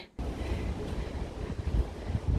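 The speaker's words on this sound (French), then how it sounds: "On entend le vent." Steady wind gusts roar across the open summit of the Largoët fortress tower, a continuous rumbling rush buffeting close to the microphone after a short silent start.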